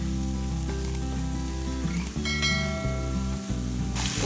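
Biryani masala sizzles loudly and continuously in a hot pan while Malvani-style prawn rice is cooked, a dense, steady frying hiss with no talk.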